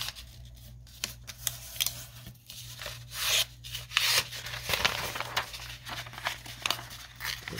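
Paper being trimmed for a junk journal page spread, a book page rasping and rubbing under a cutting tool in short irregular strokes, close and moderately loud with pauses between cuts.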